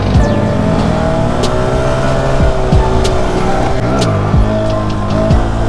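Honda Grom minibike ridden fast, its small single-cylinder engine droning steadily near and loud with rising and falling revs and gear-change dips, wind rumble throughout.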